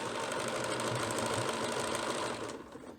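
A sewing machine stitching through heavy fabric for baby bloomers runs in a fast, steady, buzzing whir, close and continuous, then winds down and stops at the end.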